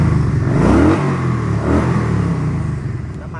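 A 2013 Kawasaki Vulcan 900 Classic motorcycle engine is revved up and down, its pitch climbing and falling in a couple of throttle blips over a steady, close, loud idle.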